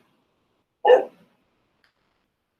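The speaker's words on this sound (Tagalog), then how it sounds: "nagagalit yung aso ko" A single short bark from a pet dog indoors, near and fairly loud, surrounded by silence.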